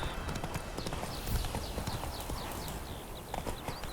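Horse hooves clip-clopping steadily at a walking pace in The Witcher 3: Wild Hunt, close and rhythmic over ambient countryside noise and chirping birds, with no speech.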